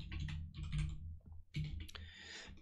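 Typing on a computer keyboard while coding: close, crisp bursts of rapid key clicks in two clusters separated by a short pause, with no voice present.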